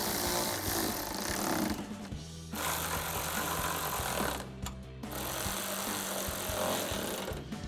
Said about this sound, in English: And then we'll grab our 10mm socket and tighten all of these down.